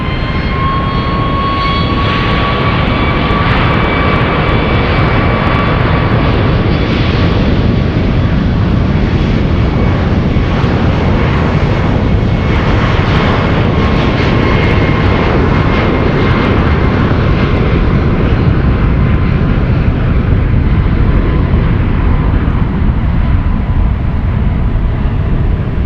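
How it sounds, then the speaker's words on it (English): A United Boeing 737 MAX 8 jet roars loudly and steadily at San Francisco International Airport, with a sustained engine rumble and a high whine running through the whole stretch, no voices. "United 1393 flying to Philadelphia. That's a 737 MAX 8."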